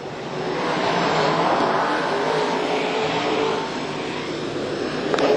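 Super Sedan race cars roar down the back straight at Carina Speedway, a loud, continuous engine wash from a passing pack that swells early and holds steady, with no talk over it.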